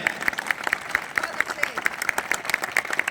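Loud applause from the audience at a temple festival gathering, a crowd clapping in a brisk, uneven patter with sharp individual claps standing out, moderately distant, while a voice talks over it.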